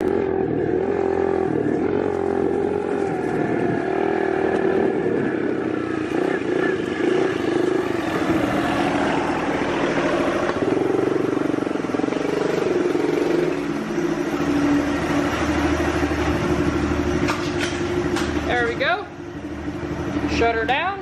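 A dirt bike engine idles and runs steadily nearby with a constant drone, and someone talks over it.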